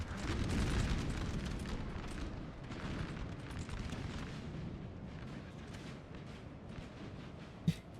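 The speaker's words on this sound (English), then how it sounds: "And they have their own guns firing." Artillery in a Napoleon Total War 4v4 battle: a continuous, rumbling cannonade of overlapping muffled booms, steady and moderately distant, with one sharper pop near the end.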